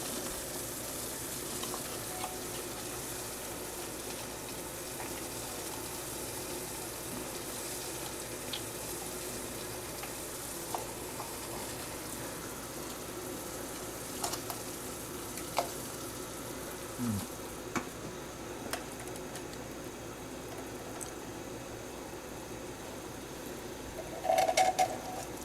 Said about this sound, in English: the salted water is boiling quite well. We'll see if we can't get some spaetzle in it.